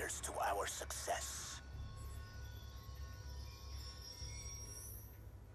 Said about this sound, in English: Ain't getting anything else with that train in the way.